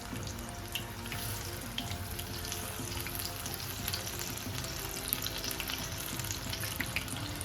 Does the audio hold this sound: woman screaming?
no